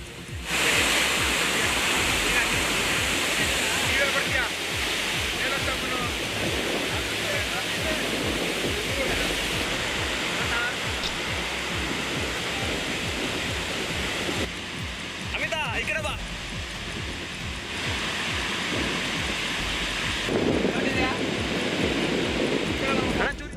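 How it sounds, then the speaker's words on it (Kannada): Jog Falls thunders with heavy floodwater after all the dam gates are opened during Karnataka monsoon rains, a dense, continuous roar filling the scene while a voice talks over it. "ಗೇಟ್ ಓಪನ್ ಮಾಡ್ತಿದ್ದಂತೆ ಜೋಗ ಜಲಪಾತ ಧುಮ್ಮಿ ಕೂತಿದೆ"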